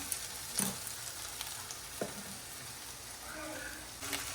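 Egg bhurji frying in a pan, a soft steady sizzle with a few scattered clinks and scrapes of stirring, fairly quiet and without speech.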